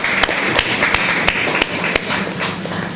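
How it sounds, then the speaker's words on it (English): An audience at a Social Business Design Lab event claps in loud, uneven bursts, with sharp individual hand claps standing out over a continuous bed of applause. "Let's give him a big applause."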